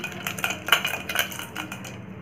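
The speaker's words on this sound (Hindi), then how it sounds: "इस तरह से हम इसको फेंटते रहेंगे तब तक कि ये क्रीम की फॉर्म में ना चेंज हो जाए।" Ghee is beaten in a bowl until it turns creamy, making quick rhythmic scraping and clinking strokes close up, several sharp taps in a row before fading out.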